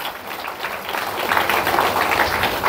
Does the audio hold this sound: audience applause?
yes